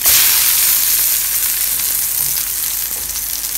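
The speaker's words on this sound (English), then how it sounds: "Burning the burger, guys." A burger sizzles while frying in a home kitchen: a loud, continuous, close-up hiss and crackle of hot fat that holds steady throughout, with no voices over it.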